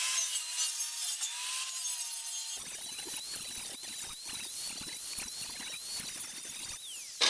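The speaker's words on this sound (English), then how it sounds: "I'm just gonna take a grinder to the edge of this." An angle grinder works along the steel edge of a shovel, a continuous harsh whirring grind with a steady high whine that shifts pitch slightly as the disc bears on the metal, close and loud throughout with no talking.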